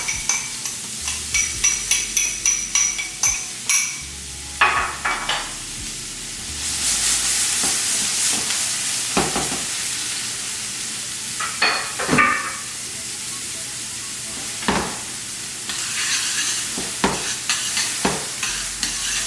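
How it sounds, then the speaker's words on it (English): Onion and garlic sauté in a pan for a spicy shrimp dish, a loud continuous sizzle punctuated by repeated scraping stirs and a few sharp utensil knocks close by. "saute for about 2 minutes"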